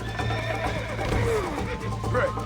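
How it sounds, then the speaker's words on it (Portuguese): A horse neighs in the video game Red Dead Redemption on PS5, a clear, loud whinny rising and falling over hooves clip-clopping in a steady rhythm, repeated near the end. "O cavalo não tá correndo, cara."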